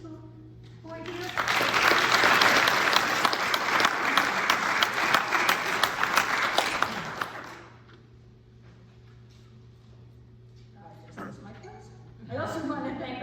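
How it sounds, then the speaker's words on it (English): A seated audience at a Matheny event applauds employees present, a dense burst of clapping that swells quickly, holds for about six seconds and fades, with a steady hum and a voice before and after. "let's applaud the Matheny employees who are here"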